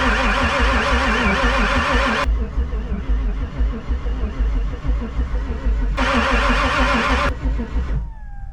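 A 7.3 Power Stroke diesel cranks in extreme cold, with loud, rhythmic starter churning in two long bursts and a lower, rough chugging between them.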